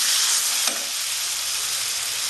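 Ginger and garlic sizzle steadily in hot oil in a pan while mutton liver is cooked Bengali style, a loud constant frying hiss with one brief stir near the start.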